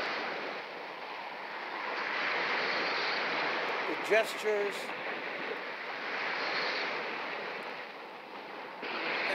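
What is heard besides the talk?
sound of water in a film scene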